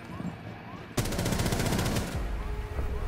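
A hip-fired gun in a tactical shooter video game rattles off a rapid automatic burst lasting about a second, loud and close, followed by lingering rumble.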